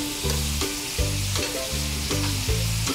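Beef sizzles and crackles steadily in a hot pan, with a few soft bursts of stirring at regular intervals.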